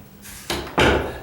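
A residential door being pushed shut against a sticking jamb during a condo renovation, heard as two close thumps, the second louder and firmer, with a brief rattle trailing off.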